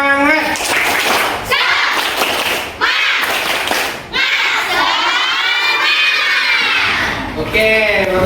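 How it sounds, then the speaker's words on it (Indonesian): Classroom group led by a teacher doing a rhythmic clapping chant, with children shouting and cheering over sharp claps, loud and close, broken by brief pauses between bursts. "kita beri sedikit energi hari ini dengan tepuk semangat"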